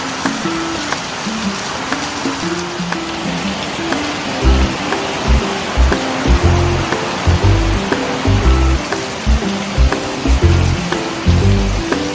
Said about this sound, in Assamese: বৰষুণ দি দিলে ওলাই যোৱা নহ'বই চাগে আজি